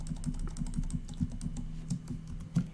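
Fingers type on a computer keyboard in a fast, uneven stream of close, light key clicks with no one speaking.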